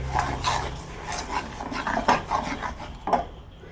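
A spoon scrapes and stirs fenugreek gojju in a pan, giving irregular soft rubbing and clinking strokes, close and fairly quiet, with no talk.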